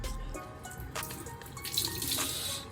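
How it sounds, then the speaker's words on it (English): Cold water runs from a tap into a sink, a steady splashing stream heard up close and alone, with a few louder gushes. "gotta put some cold water on this, man"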